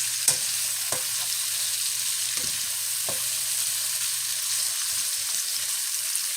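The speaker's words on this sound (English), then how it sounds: "continue to stir these around with these onions nice and a little bit of a caramelize on them" Onions and green beans for Japanese-style green beans fry in a pan with a steady, close sizzle, broken by a few sharp scrapes and clicks as they are stirred.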